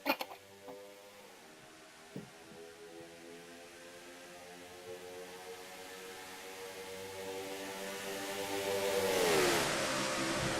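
NASCAR race cars in a racing video game at Pocono, accelerating as the green flag drops: a layered, steady engine drone of several cars that rises in pitch and swells louder near the end, with no talking.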